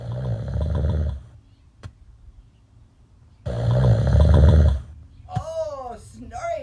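A person snores in two long, rattling, deep breaths separated by a quiet pause, close and loud, followed by a short burst of voices.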